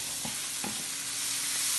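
Crushed garlic and curry leaves sizzle in hot oil in a pan, with a couple of soft stirring scrapes over a steady, close frying hiss.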